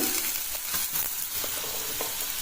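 Cauliflower, peas and beans are added to oil with softened onions and green chillies and sauté for a vegetable sabji. A continuous close sizzle with light stirring is heard, with no voices.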